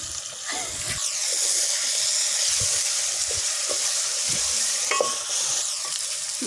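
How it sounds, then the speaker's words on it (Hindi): Masala spices for an aloo methi dish frying and sizzling steadily in a pan while being stirred, with occasional scraping clinks, close and continuous, with no talking. "ये हमारा मसाला फ्राई हो गया है अच्छे से।"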